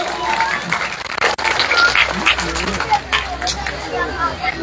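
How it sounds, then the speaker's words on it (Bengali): Students and guests at a school and college ceremony clap in congratulation, a scattered, uneven patter mixed with crowd chatter and voices. "আমি তাদের সেই করতালির মাধ্যমে তাদেরকে অভিনন্দন জানাবো"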